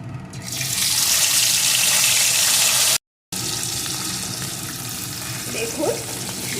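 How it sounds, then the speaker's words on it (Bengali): Tangra fish frying in hot mustard oil gives a loud, dense, steady sizzle that cuts out for a split second, then carries on alone. "এখন আমি মাছগুলোকে এর মধ্যে দিয়ে ভেজে নেবো"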